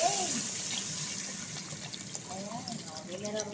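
Mineral water poured into a cooking pot, a steady splashing gush running throughout at low level, with a voice talking faintly over it.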